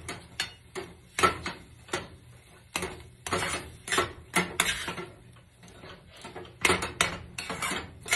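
A spoon scrapes around a pan while atta halwa is stirred over a low flame, with a steady run of close, rhythmic clinks and scraping strokes.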